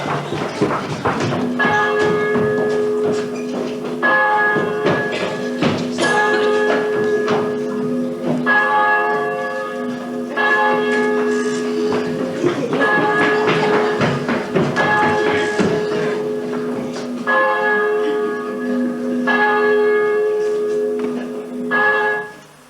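Village church bells in Churt, England, ring out a peal in celebration of VE Day after six years of wartime silence, a continuous, loud, overlapping clangour of rhythmic strikes that lasts throughout.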